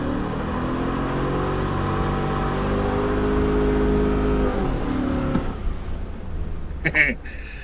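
A Jeep YJ fitted with an LS engine revs hard to about 6,200 rpm, a loud sustained roar that climbs and then drops off, with people talking nearby.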